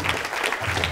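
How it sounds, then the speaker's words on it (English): A brief burst of audience clapping rings out at a live stunt show, short and fairly close. "Give him a round of applause."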